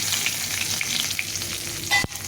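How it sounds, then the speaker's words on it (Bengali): Dry red chillies and a bay leaf frying in hot oil, a close, lively sizzle with popping crackles, ending with a sharp clink of a utensil against the pan. "এখন তেল দিয়ে দিলাম এখানে দুটো শুকনো লঙ্কা দিয়ে দেবো একটা তেজপাতা"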